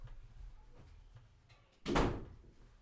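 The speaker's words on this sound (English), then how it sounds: "Let me close this door." A single door thuds shut at close range, a sharp broadband slam standing out after a stretch of quiet room noise.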